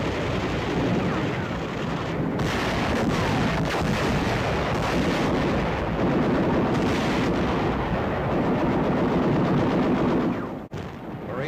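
Artillery and naval gunfire pound Iwo Jima in the WW2 preliminary bombardment, a dense, continuous roar of booming blasts and rapid firing that stays loud throughout.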